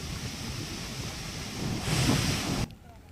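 Swollen river water rushing after monsoon rain in Kutch, Gujarat, a steady broadband roar with wind buffeting the microphone, swelling briefly louder before cutting off abruptly near the end.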